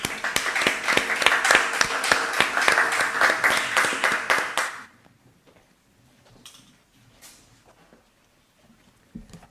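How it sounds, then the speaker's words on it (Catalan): An audience at a Catalan conference on agricultural parks applauds a speaker, a burst of lively clapping for about five seconds that stops abruptly, followed by near silence with a few faint taps and small handling noises. "Un aplaudiment per ell."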